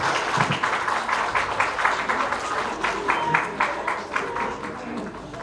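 An audience claps at an album launch event, a sustained round of applause from a crowd with steady rhythmic clapping, fairly loud and filling the room.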